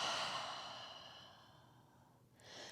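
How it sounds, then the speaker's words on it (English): One long, deep exhale out through the mouth during a yoga session, a soft breathy whoosh that starts strongly, tapers off gradually and ends with a faint breath, close and quiet. "Nice deep breath in through the nose. And exhale out the mouth."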